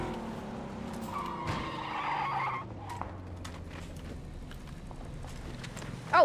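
A car is driven fast in the video game PUBG: a steady engine drone with tire skids and squeals, fairly faint and mid-distance, ending in a sudden louder burst.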